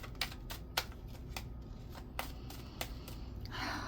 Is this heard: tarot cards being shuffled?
yes